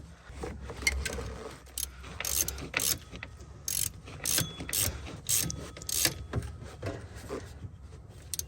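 A ratchet wrench with a long socket working on the alternator bolts of a Mercedes ML350, giving bursts of rapid close clicking in uneven spurts separated by short pauses, with no talking.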